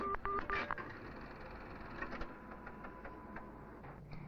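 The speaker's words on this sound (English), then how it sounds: "Those quick pips mean that I must put the money in." A 1960s public payphone gives a few quick, high, tonal pips at the start, signalling for coins to be inserted. Then comes a faint, low line hum with light handling clicks.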